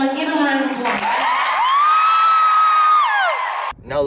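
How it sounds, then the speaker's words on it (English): Loud audience cheering and whooping erupts and sustains for about three seconds, with a prominent voice yelling over the crowd, then cuts off abruptly near the end. "Give him a round of applause."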